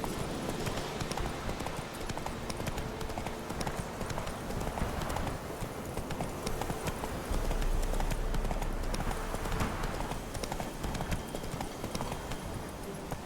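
A horse galloping in The Witcher 3, dense pounding hoofbeats close and loud throughout, blended with rushing ambient game noise and no clear talking.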